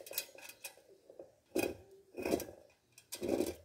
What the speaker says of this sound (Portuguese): vou cortar todos aqui para ficar firminho